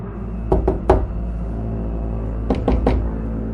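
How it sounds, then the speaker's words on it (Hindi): Knocks land on a main door as a horror-story sound effect: three soft, distinct raps, a pause, then three more, set against a low steady rumble. "उन्हें अपने मुख्य दरवाजे पर एक हल्की लेकिन स्पष्ट दस्तक सुनाई दी"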